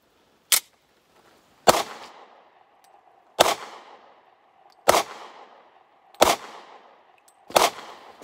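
A Kahr P40 pistol fires six loud, sharp shots from a 7-round magazine at an outdoor range, spaced about a second apart, with each crack trailing off in a short echo and no talking.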